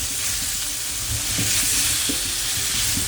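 Meat for a steak and potato pie browns in a hot pan with small potatoes and onions, giving a loud, steady sizzle with occasional scraping and stirring clicks, no talking.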